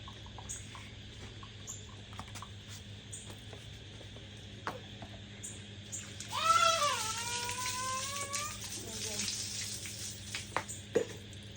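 Cold water is poured into a pot of boiled noodles and potatoes while cooking, a short splashing rush near the middle with quieter kitchen sounds around it.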